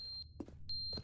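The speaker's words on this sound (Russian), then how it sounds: "Опять мой вибратор пищит." A device with low salt batteries beeping: two short, thin high-pitched chirps separated by a pause, faint and close, with a few soft rustles in between and no talk.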